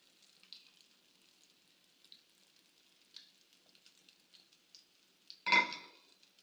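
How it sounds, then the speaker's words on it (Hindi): Egg omelette batter poured into hot oil in a pan bursts into a loud, close sizzle near the end, after faint intermittent crackles of the heated oil. "ऑयल हमारे यहाँ पे गर्म हो गया है और अब जो बैटर मैंने तैयार करके रखा था अंडे का वो मैं इस पर डाल दूँगी"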